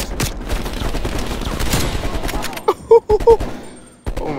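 Gunfire rattles in a Call of Duty: Black Ops Cold War campaign mission: dense bursts of shots, then a few sharp separate cracks near the end. A voice talks over the shooting.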